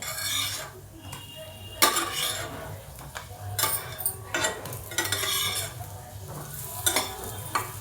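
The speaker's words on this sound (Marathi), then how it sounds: "आता शेकू देते पलटी करते" Puffed rice vadas sizzle in a pan while a spatula scrapes and flips them in repeated short strokes, close and fairly loud over a steady frying hiss.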